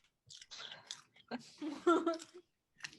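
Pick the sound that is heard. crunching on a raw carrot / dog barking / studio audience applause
crunching on a raw carrot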